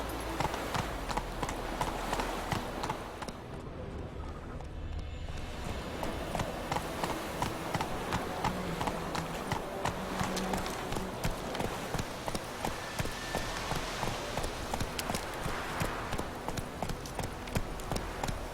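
Roach, the horse in The Witcher 3, gallops with fast, steady hoofbeats pounding close and loud for the whole stretch, with faint ambient game sound behind.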